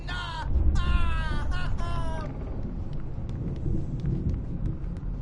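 Thunderstorm in the video game Alan Wake Remastered, a steady low rumbling roar of thunder and rain running throughout, with a voice talking over it near the start.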